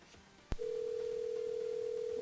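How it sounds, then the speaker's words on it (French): A telephone line clicks once, then a steady ringing tone sounds alone on a radio phone-in show, quiet and unbroken to the end. "Deuxième sonnerie."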